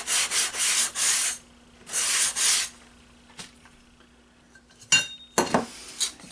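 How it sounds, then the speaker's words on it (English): A sanding block rubs across a wooden elevon edge to finish a 45-degree chamfer on a model aircraft, heard as several close scraping strokes in bursts, then quieter handling and a few short sharp rubs at the end. "And we'll take the sanding block."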